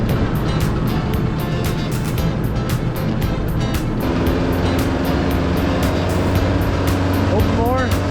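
A 1989 Raven boat's engine throttled up to get on plane, a loud steady motor drone with rushing water and wind, while people talk over it.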